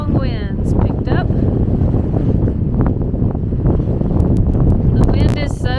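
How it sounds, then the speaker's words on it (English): Strong gusts buffet the microphone outdoors at a glider museum, a loud, continuous low rumble that swamps the scene while people speak intermittently beneath it. "right when we started disassembling the glider, the strong winds picked up"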